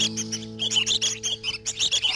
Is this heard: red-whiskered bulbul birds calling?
yes